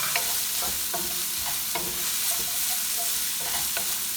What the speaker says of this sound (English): This is how the onion has to be browned evenly so that it can be translucent.